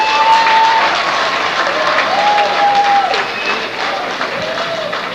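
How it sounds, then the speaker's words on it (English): Pageant audience applauding steadily in a hall, a sustained wash of clapping with a faint tone running through it, fading slightly toward the end. "let's give her a round of applause."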